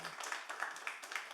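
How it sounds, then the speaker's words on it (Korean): Congregation in a church service clapping, a brief patter of applause of moderate loudness that fades quickly within about a second. "우리 박수 한번 주세요."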